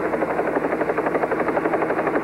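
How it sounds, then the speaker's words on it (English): Helicopter rotor chopping steadily and loudly at close range, an even, continuous beat with engine whine and no voices over it. "Helicopter"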